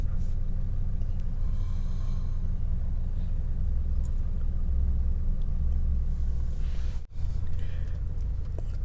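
A four-door 1.9-litre automatic car idles just after starting, with a low, steady engine rumble that holds close and constant, briefly dips for a moment, then carries on.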